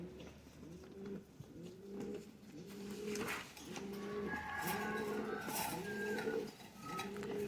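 Sialkoti and Kasuri pigeons coo in a steady string of about seven deep, rolling calls, close and fairly loud with no talking, in a loft of birds kept for sale.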